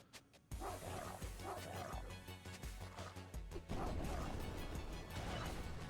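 A dog barks in The Mummy Demastered, a series of loud, punchy barks and yips over busy game music and crashing effects across a few seconds.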